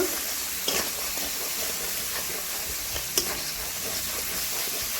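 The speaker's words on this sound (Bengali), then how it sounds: "ভালো করে নাড়াচাড়া করে মশলাটাকে আমি ভালো করে ভেজে নেব" Cumin-powder spice paste stirred and fried in a pan for a village-style mushroom dish: a steady broad sizzle runs throughout, with a couple of sharper scraping clicks from the stirring spoon.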